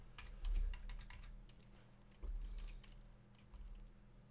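A password being typed on a computer keyboard: quick clusters of light key clicks, close and fairly quiet, in short bursts separated by brief pauses.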